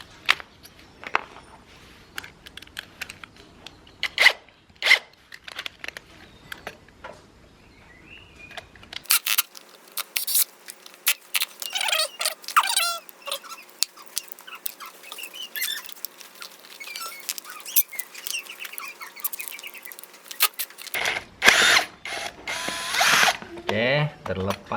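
Two bolts come out of a blender that died completely and threw sparks during a repair. Close, intermittent clicking and ratcheting of the tool is heard in short bursts, with small metallic handling sounds between them.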